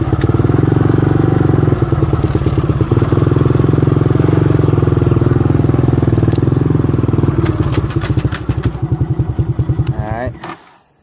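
Four-wheeler ATV engine droning loud and close, its pitch dropping through a downshift into a choppy idle before cutting off abruptly.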